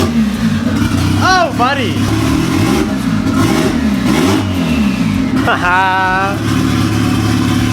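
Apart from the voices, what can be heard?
Honda Civic EG car engine revving after repair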